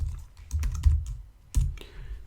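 Close keys clatter on a computer keyboard in two quick clusters of taps, each a short run of crisp clicks with a brief pause between, the room otherwise quiet.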